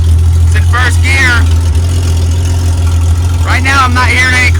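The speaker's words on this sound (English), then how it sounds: "it's kind of hard to hear over the exhaust" A Jeep engine with loud exhaust idles with a deep, steady exhaust rumble close by, in first gear with the transfer case in high range, while someone talks over it in short bursts.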